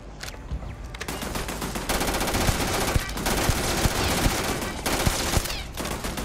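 Sustained automatic gunfire from a weapon in Starfield aimed at a turret, loud rapid bursts running continuously with brief lulls between volleys.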